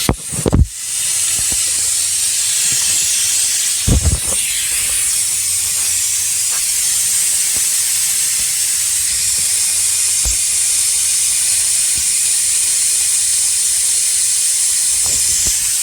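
Harbor Freight pneumatic brake bleeder running on compressed air while bleeding the brakes of a Fox body Mustang, a loud steady hiss throughout with a few sharp clicks and knocks, close by.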